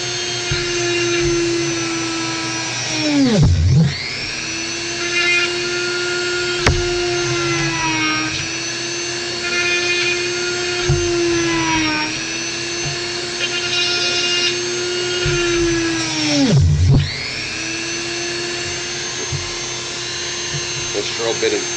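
A power drill whines steadily for a long stretch, bogging down sharply twice as it bites in, with someone talking over it.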